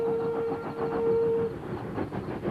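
Steam locomotives arriving at the Thirlmere rail museum in New South Wales on a busy event day, with a sustained whistle tone over rumbling, clattering train noise, fairly loud and close.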